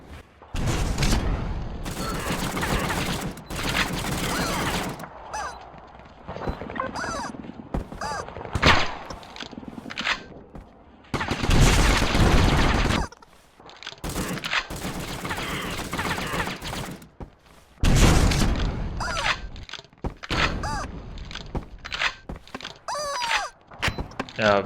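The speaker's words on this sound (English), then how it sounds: "Launching yourself with the RPG." Rapid bursts of gunfire and booming RPG blasts from the War Brokers game, loud and dense with short pauses between volleys, mechanical clicks in the gaps.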